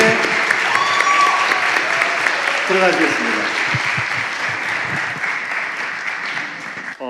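Church congregation at a Sunday service clapping in loud, sustained applause that fades slightly toward the end, with a brief spoken line near the start.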